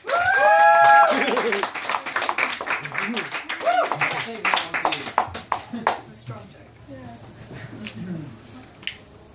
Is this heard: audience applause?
yes